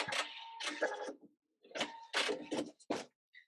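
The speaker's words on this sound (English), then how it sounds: "I'm sewing right on that line and sewing 2 stitches past." A sewing machine stitches a paper piecing line in short bursts, close and fairly quiet, with a pause between runs and a few quick final stitches.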